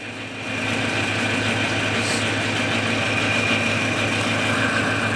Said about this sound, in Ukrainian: Він якраз трактор робить не на холостих, а чуть-чуть вище.